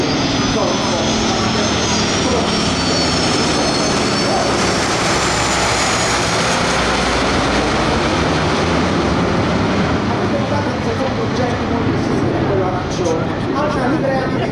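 A formation of Aermacchi MB-326 jet aircraft roars past at the Jesolo Air Show, a loud, continuous broad rumble of engines that swells and shifts as the jets fly over, with a commentator talking underneath.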